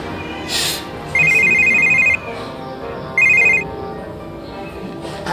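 A telephone ringtone sounds in two electronic bursts, the first longer and the second short, over a busy background with a brief louder noise just before.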